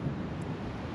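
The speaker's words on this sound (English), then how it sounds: "it's windy here and it's cold" Cold wind blowing at an outdoor South Australian country town, a steady low rumbling buffet of gusts across the microphone for the whole moment, with no voices.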